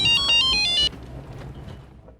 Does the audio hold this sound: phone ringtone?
yes